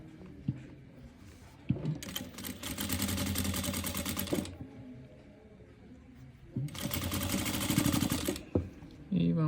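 A sewing machine stitches fabric for a memorial teddy bear in two sustained runs of rapid, steady needle chatter with pauses between them, close and fairly loud, with handling noises in the gaps.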